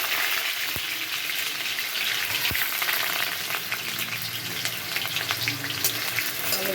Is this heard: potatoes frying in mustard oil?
yes